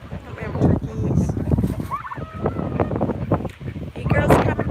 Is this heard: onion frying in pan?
no